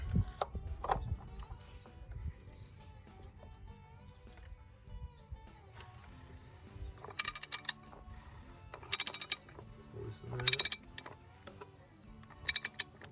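A 1 7/16 socket wrench on a 2008 Ford F-350 6.4L diesel's filter gives several sharp ratcheting bursts of quick clicks, close and loud, separated by quiet pauses and faint handling sounds.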